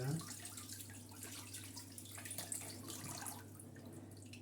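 Cold tap water runs steadily over skin as hands and face are rinsed off, a faint, continuous low splashing with a soft hum beneath and no talking.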